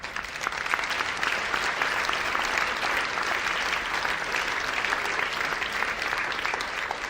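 A crowd at a Namur New Year's greetings address applauds loudly and steadily, dense unbroken clapping filling the whole stretch with no speech over it.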